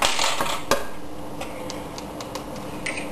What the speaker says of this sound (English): we're going to beat it again with a fork